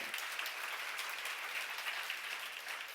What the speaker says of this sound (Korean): 박수랑 하세요.